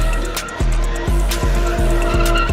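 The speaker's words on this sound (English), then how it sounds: "take me somewhere where I can drift, like a Tokyo drift kind of stuff" A car drifts with a loud, sustained tire squeal and a revving engine, its pitch dropping and climbing again in repeated sweeps, close and prominent with no speech over it.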